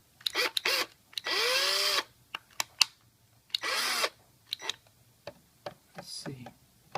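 A Hyper Tough power drill fitted with a screwdriver bit, used on a 1:28 RC M1A2 tank, whirs close and loud in short bursts of about a second, with clicks and small handling knocks between the runs.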